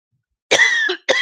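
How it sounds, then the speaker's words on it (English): Two short, sharp coughs close by, the first longer and harsher, the second clipped right after a brief pause. "Now my nose is running, I'm starting to cough."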